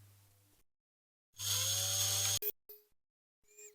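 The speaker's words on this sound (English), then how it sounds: "we just have to stop this crack that you can see here getting any further by just drilling a hole in it at the end" A small drill boring a hole into the plastic of a Matchbox BMW 750iL diecast model car, a steady high whir lasting about a second, followed by a few brief clicks and short spins.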